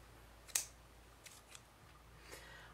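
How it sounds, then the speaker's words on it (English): A single crisp snip of scissors cuts a length of yarn, followed by a few faint soft handling rustles in a quiet room. "cut off a little bit extra yarn just in case I need it."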